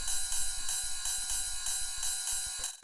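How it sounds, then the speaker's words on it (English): Standard techno ride cymbal sample, a bright, hissing metallic shimmer repeating in a steady quick pulse over a low thumping beat, loud and continuous. "It's just a standard sort of techno ride."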